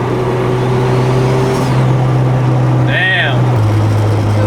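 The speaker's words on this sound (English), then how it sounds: "the turbo is like really, really loud right now" Turbocharged Honda B18C engine in an EG hatchback pulling steadily at close range, a loud sustained drone with rising and falling whine, and a brief whistling chirp from the turbo partway through.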